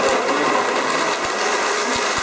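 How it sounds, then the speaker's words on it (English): A countertop blender running on high speed, blending blueberries, with a steady, dense whir held for a couple of seconds at close range and no talking. "we're going to blend this up on high"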